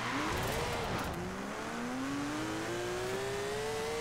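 A 1951 Porsche in the Forza Horizon 4 racing game launches in second gear from about 4,000–5,000 rpm, its engine revving loudly with a steadily climbing pitch and a brief stumble near the start, with no talk over it.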